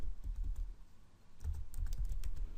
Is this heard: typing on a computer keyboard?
yes